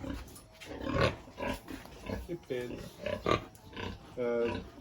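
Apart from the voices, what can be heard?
pigs grunting on a farm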